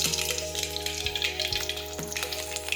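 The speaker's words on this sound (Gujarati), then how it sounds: "હવે આપણે તેમાં રાઈ અને જીરું નાખી દઈશું" Mustard seeds and cumin dropped into hot oil for a cholinu shak, crackling and spluttering briefly under a steady sizzle with a few dull knocks, close by.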